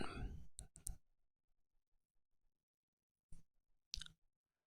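Several sharp computer mouse clicks sound close and quiet in a still room, a few quick clicks at the start followed by a pause and two more isolated clicks later.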